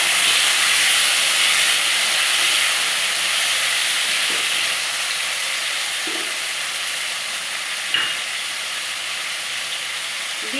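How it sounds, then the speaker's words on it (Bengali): Chopped tomatoes sizzling in a hot pan for a chutney, a steady loud frying hiss that runs throughout with small spits and a brief crackle near the end, no one speaking. "এবার দিয়ে দেবো কেটে রাখা টমেটো।"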